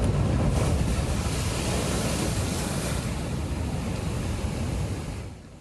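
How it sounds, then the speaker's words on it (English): Powerful high-surf ocean waves crash along the coast at Pacifica, a loud, continuous roar of churning water with wind buffeting the microphone, fading slightly at the end. "today brought another round of powerful waves to the coast"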